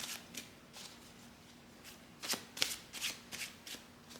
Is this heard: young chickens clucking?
no